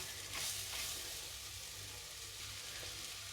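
Kerala-style clam roast (kakka) with curry leaves being stirred in a pan: a soft, even sizzle with faint scrapes of stirring, quiet and continuous.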